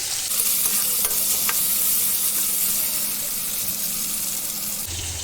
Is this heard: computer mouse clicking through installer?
no